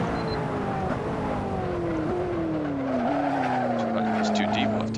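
A McLaren P1 race car in the Assetto Corsa video game brakes into turn one from high speed. A loud engine whine falls in pitch in steps as it downshifts, with faint tyre noise toward the end.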